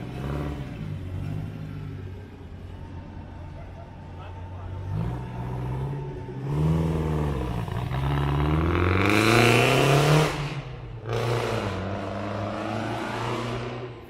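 Vintage MG car on a Czechoslovakian vintage car race route, its engine snarling through fishtail exhaust pipes as it passes close and revs up, with other engine noise and speech mixed in around it.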